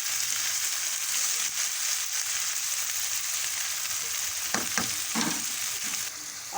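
Tomatoes sizzle and fry in a pan for a potato curry, a steady close crackle with a few sharp scraping stirs of a spoon clustered near the end.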